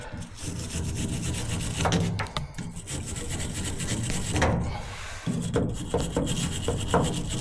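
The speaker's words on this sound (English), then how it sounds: "Let me clean out that rust around it. I have this little wire brush." A small wire brush scrubs rust off the petcock valve of a 1952 Chevy truck, giving close, continuous scratchy rasping strokes with irregular sharp scrapes and brief pauses.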